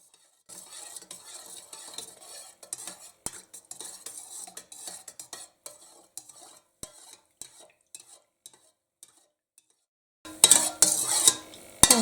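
A spoon stirs salt into water in a container, quick irregular clinks and swishes, then a louder burst of clattering near the end.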